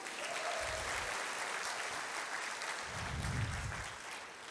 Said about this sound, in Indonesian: Tepuk tangan untuk Atomi.